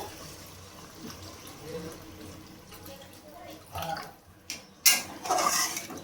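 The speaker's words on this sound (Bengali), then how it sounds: "এর মধ্যে আমি পরিমাণ মতো জল দিয়ে দেবো।" Water is poured into a pan of spiced potatoes for a soybean kofta curry, with quiet background clatter and then a few louder splashing bursts of liquid near the end.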